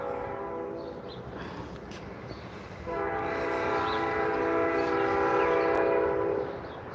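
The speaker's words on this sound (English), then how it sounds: "Train." A freight train near a main railroad hub rumbles steadily past, then its horn sounds in a long, loud, sustained blast that holds for several seconds before it fades.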